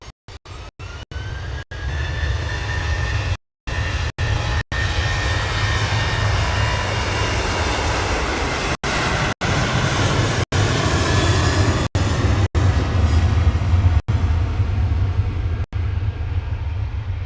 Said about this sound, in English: Black and white one heading off to Reus, flight 929.